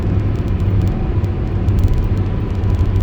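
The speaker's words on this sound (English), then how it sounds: "You can actually hear the bits of gravel." Bits of gravel from a gravel truck strike a car at night on an expressway, sounding as a dense, steady roar of road and wind rumble with faint crackling ticks running throughout.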